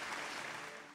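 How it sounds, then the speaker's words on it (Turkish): An audience applauds as a contestant is introduced at the 2013 Turkish championship event, a dense, steady wash of clapping that fills the whole second and fades slightly toward the end. "Ve Serhat Balaban geliyor alkışlarınızla."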